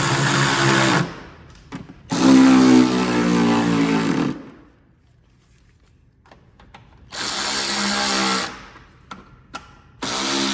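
A power tool fitted with a 10 mm socket drives bolts on a rear splash guard of a 2024 Land Cruiser 250, making loud buzzing bursts of a few seconds each, separated by silence and small clicks.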